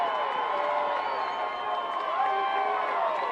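A college football crowd at a Wayne versus Concordia game roars after an interception, a steady wash of cheering, whistles and shouts that stays loud and sustained throughout.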